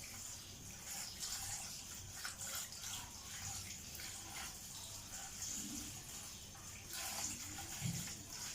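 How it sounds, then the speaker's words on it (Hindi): Boiled pasta is strained in a kitchen and rinsed under cold tap water, a steady rushing, splashing flow heard close up and continuous, with no speech over it. "यहाँ पे मेरा पास्ता बॉईल हो चुका था और अब मैं इसको करूँगी स्ट्रेन, और स्ट्रेन करने के बाद थोड़ा सा ठंडे पानी से रिंस करके"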